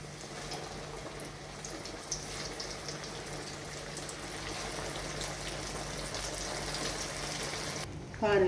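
Kithaki pieces coated in maida flour sizzle in hot frying oil, a steady dense crackle and bubbling that runs the whole time at moderate level, with a louder burst near the end.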